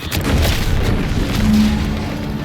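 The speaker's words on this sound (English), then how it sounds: "What's that? An explosion?" A big explosion in the video game The Outer Worlds 2 lands as a loud, low boom that fills the whole clip with a rumbling roar, and a steady tone rises briefly near the middle.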